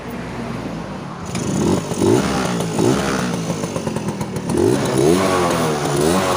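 A motorcycle engine revs repeatedly after its clogged exhaust pipe was cleared of carbon deposits and the piston cleaned. The close, loud rising and falling revs have a rough, clattery exhaust note with short bursts throughout.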